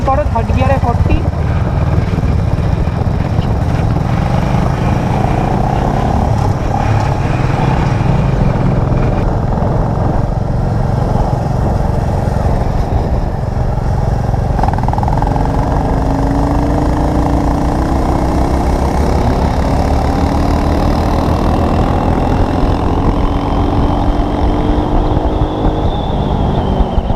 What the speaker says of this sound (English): we had to test out the rolling acceleration in third gear with 40 km per hour speed on both of the motorcycles